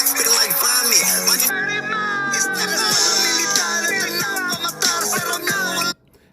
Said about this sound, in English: That same synth bass sound.